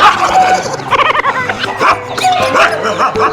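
An aggressive dog gives loud, close barks mixed with high yips and whining cries in quick succession, filling the whole stretch.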